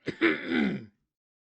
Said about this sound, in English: I apologize for coughing. I kind of have a chest infection.